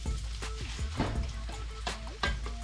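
Garlic frying in a pan for fried rice, a steady close sizzle with crackling pops, while stirring scrapes and small clinks of a utensil sound over it.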